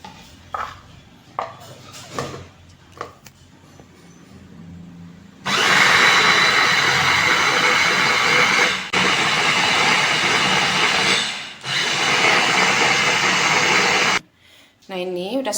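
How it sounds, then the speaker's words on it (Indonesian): A kitchen blender grinds corn kernels with water, starting after some light handling clatter and running loud and steady for about nine seconds with brief dips in pitch, then stopping abruptly. "Kemudian saya blender jagung yang bagian dalamnya."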